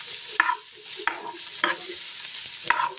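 Onions fry in hot oil for a fish-egg curry, a close sizzle punctuated by four sharp scraping stirs of a spoon against the pan.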